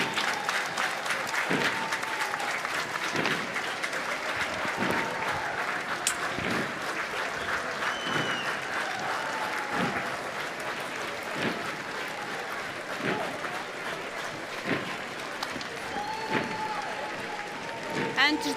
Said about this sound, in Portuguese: a sua passagem também muito aplaudida pelas pessoas que estão a assistir ao desfile militar